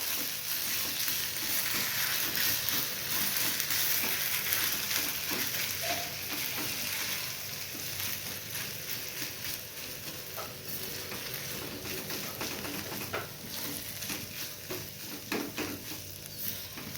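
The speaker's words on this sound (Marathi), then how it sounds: "हे बटाटे हाताने स्मॅश करून ह्याच्यात ॲड करायचे व्यवस्थित हलवून घ्यायचं आहे" Smashed potatoes fry in a pan for a spicy misal dish, a constant moderate sizzle with soft stirring scrapes running throughout, slightly louder at first and then steady, with no speech.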